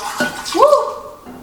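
Liquid poured from a dish while making a drink with dragon fruit and ice, heard as one short, close pour whose pitch rises like a filling glug before fading.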